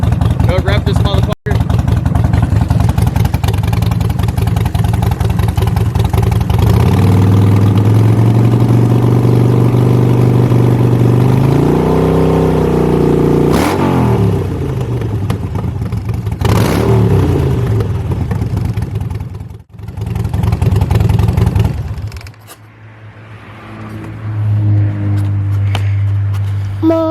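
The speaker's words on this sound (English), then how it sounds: "You want to just rev the damn bike?" A Harley Sportster motorcycle engine runs close and loud, idling then revving up and dropping back in several swells, with a cut-out and restart, while people talk over it.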